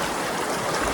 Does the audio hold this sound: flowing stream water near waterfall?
yes